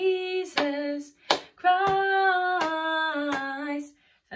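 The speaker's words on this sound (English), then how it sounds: "you've got slap, clap, clap, kind of a little bit off beat" Sharp hand slaps and claps accompany a children's memory verse song with actions, landing between sustained sung notes in a slightly off-beat pattern of slap, clap, clap, close and clear over the singing.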